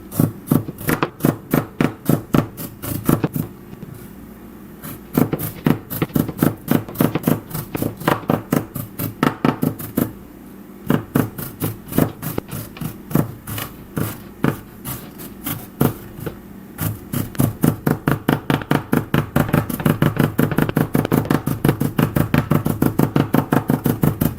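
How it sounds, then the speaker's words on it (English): A knife chops vegetables on a board in rapid, rhythmic strokes, with brief pauses and faster bursts, close and crisp. "I just kind of chop around."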